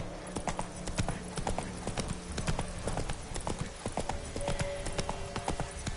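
Roach, a horse in The Witcher 3, gallops in an even, rapid hoof rhythm over the game's steady ambient bed, sounding close and continuous throughout; no voices.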